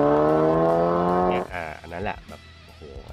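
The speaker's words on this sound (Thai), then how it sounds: "ถ้าเกิด เป็นประเภทแบบรถแบบคลัชคู่นะครับรู้สึกว่าจะเป็นพวกรถยุโรปประเภท Audi หรือ Volkswagen นะที่เวลาเปลี่ยนคลัชจะได้ยินเสียงแบบฟึดๆอะไรเงี้ย" An Audi or Volkswagen car with a dual-clutch DSG gearbox revs steadily, then a quick gear change cuts the engine note. The revs rise again in short steps, with a voice talking over the later part.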